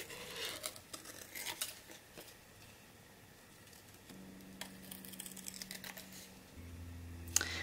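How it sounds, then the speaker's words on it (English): Small scissors snip through patterned paper in quiet, close, irregular cuts with light rustling as the paper is turned, over a faint low hum and no voices. "And turning your paper instead of the scissors also"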